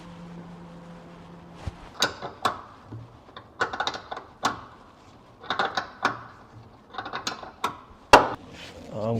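Ratchet clicks and metallic mechanism bursts while bumper bolts are removed from inside the boot of an MGB, coming in short, irregular close-up spurts with pauses between.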